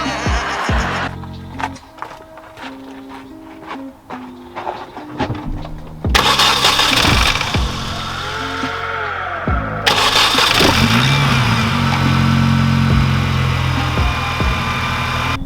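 A MINI's engine cranks and fires up, then settles into a steady idle, loud and close, with revving variations and no talking over it.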